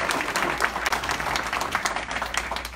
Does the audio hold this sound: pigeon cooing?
no